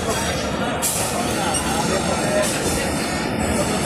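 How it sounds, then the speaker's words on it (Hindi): Trains rumble and rattle steadily at Vadodara railway station, a dense continuous roar with hissing wheel noise, loud and close, with speech mixed in beneath the din. "तो फाइनली मित्रों पहुँची गया है अपने वडोदरा रेलवे स्टेशन।"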